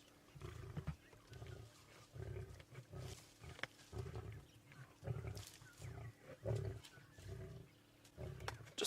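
A male lion growls repeatedly near a kill at sunrise on safari, low rumbling bursts recurring every second or so, fairly close and steady with no talk over them.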